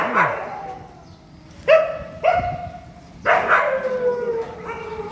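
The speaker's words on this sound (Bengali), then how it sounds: "এই যে কুকুর তোলা আছে" Dogs rounded up from a road let out several separate loud barks and drawn-out howling yelps in three bursts, close by, with quiet gaps between them.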